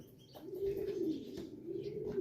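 A racing pigeon coos in soft, low, repeated throaty phrases, close by and fairly quiet, with faint ambient sounds around it and no speech.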